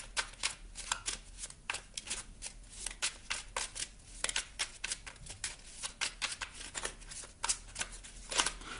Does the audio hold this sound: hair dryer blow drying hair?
no